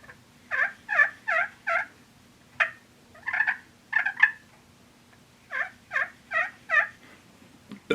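Soft, nasal roost yelps imitated on a turkey call, given in small clusters of three or four with pauses between, quiet and close with no talking.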